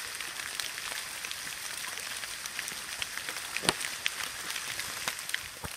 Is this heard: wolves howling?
no